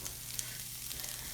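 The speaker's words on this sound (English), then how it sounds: "so I put my turkey meat in and I'm just browning that up" Ground turkey meat browns in a pan on a wood cook stove, giving a steady, fairly quiet sizzle and fry with faint crackles throughout and no voices.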